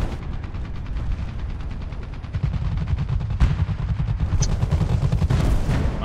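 Gunfire in the tank game War Thunder, a rapid rattling stream of shots with a louder burst mid-way and sharp cracks later, heavy and close without speech.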